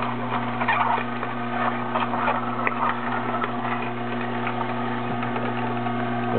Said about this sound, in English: This is an Omega juicer, masticating juicer